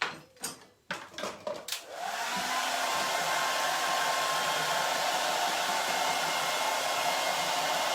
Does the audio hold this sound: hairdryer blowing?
yes